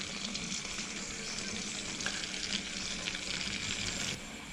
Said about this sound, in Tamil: இதே மாதிரி எல்லா சைடுகளையும் பொரிச்சு எடுத்துக்கலாம்